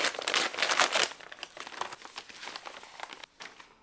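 Paper and plastic wrapping crinkle and crumple loudly as a parcel holding a fantasy novel is opened, with dense rustling bursts at first that settle into softer, intermittent crackles.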